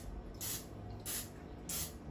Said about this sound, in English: I'm gonna take some vegetable oil spray.